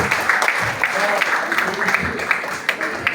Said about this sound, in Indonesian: Tepuk tangan sekali lagi yang paling meriah bagi semuanya untuk sertifikat halal Bokoroko.